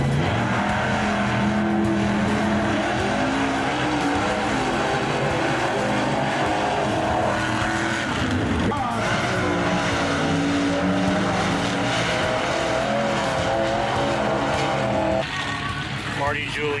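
A mini truck, the Stranger Ranger, races through a mud bog at an NMRA event, its engine roaring loud and continuous with revving surges, while an announcer talks over a loudspeaker throughout.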